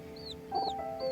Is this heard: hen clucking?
yes